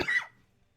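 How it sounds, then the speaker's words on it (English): A single close, sharp cough from a man with seasonal allergies, loud at the start and quickly fading to near silence. "So I did get a little bit of a cough back today"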